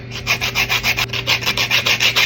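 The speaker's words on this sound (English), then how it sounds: "And then I just zest some lime or lemons in it" Lime being zested for a Jamaican black cake, a steady rhythm of close, scratchy rasping strokes, about a dozen even passes in quick succession with no talking.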